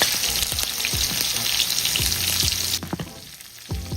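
Shrimp frying in a hot pan, a loud dense sizzle with several clunks as pieces are flipped or moved. The hiss drops off partway through, leaving quieter sizzling and a few more knocks, with no talking.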